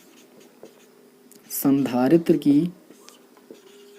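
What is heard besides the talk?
writing with pen or chalk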